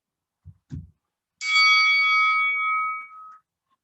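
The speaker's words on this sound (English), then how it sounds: "There goes the timer." A workout interval timer sounds during a bodyweight bootcamp session: after two soft thumps, one bright, steady electronic beep holds for about two seconds before cutting off into silence.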